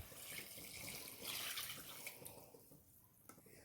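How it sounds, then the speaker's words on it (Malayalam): Three cups of strained jaggery syrup pour into a coconut mixture in a cooking pan, making a soft, continuous liquid trickle that stays faint and fades near the end. "ഇതിലേക്ക് നമുക്ക് ആ 3 കപ്പ് ശർക്കര പാനി അരിച്ചെടുത്ത് വെച്ചത് ഒഴിച്ചു കൊടുക്കാം."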